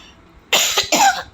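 Two harsh coughs from a person close by in a home kitchen, a brief burst followed by a second one, loud over a quiet background.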